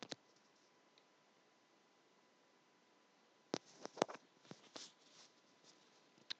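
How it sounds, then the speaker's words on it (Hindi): Computer mouse clicks while working in pgAdmin, with one sharp click, then a quiet pause, then a quick cluster of faint clicks and ticks close to the mic, without talking. "कंटिन्यू क्लिक किया मैंने"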